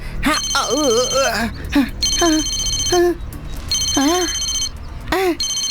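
A phone rings in repeated electronic trills, loud and near, with spoken voices in between the rings.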